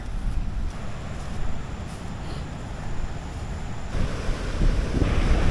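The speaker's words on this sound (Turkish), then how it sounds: "Deniz böyle dalgalı." Rough sea waves crash onto a beach in Sri Lanka, a continuous roaring wash with heavy wind buffeting the microphone, surging louder toward the end.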